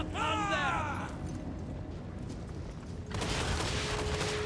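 Artillery volleys in the battle game Warhammer 3 crack and rumble as a dense, continuous barrage, with a high whistling sweep at the start and a heavy burst of fire returning near the end.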